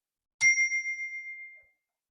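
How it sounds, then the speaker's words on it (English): A single bell is struck once to clear the space and rings out as a clear, pure tone that fades away over about a second in an otherwise silent room. "Here's the bell."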